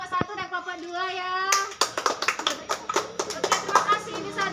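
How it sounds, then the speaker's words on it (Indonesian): A microteaching math class claps for two student groups. A voice is heard first, then the students break into quick, uneven hand claps that run to the end of the clip. "tepuk tangan buat kelompok 1 dan kelompok 2 ya"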